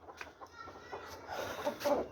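Aseel chickens at home give short, soft clucks in a loose, uneven rhythm, fairly faint and close, with a few louder calls toward the end.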